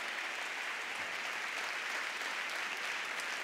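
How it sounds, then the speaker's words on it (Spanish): Audience at a murga anniversary gala applauds the sound, lighting and stage crew, a continuous, even roar of many hands clapping that is fairly soft and distant. "Fuerte el aplauso para sonido, iluminación, regidores y todo el equipo de colaboradores"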